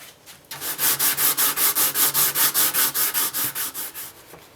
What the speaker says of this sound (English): we're just going to sand it down until we get it nice and smooth and just down to the wood